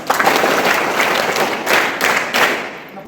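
Students at a school parliament election clap for the winner, a loud round of applause in several bursts that swells and fades, ending with a brief trailing silence.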